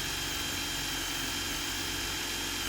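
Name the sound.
Bauker 18V cordless combi drill drilling 10mm bit through pine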